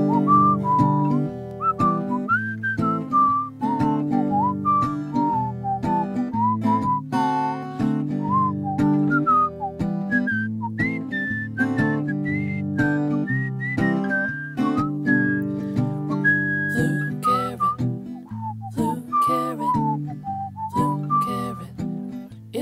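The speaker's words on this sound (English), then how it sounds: "A flute carrot, it really sounds like a flute." A breathy, whistle-like melody played on a carrot flute wanders up and down over a steady backing track with chords and beats, played continuously for over twenty seconds.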